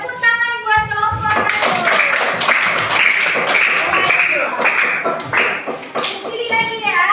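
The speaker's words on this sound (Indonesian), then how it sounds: "Oke, tepuk tangan buat kelompok" A junior high school class claps for a group of students, with brisk, uneven hand claps from many children mixed with their chatter and voices throughout.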